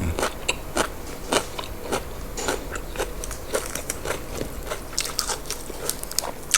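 Someone crunches crisp raw vegetables alongside grilled pork, with repeated loud bites and chewing crunches at an irregular rhythm, heard up close with no talking.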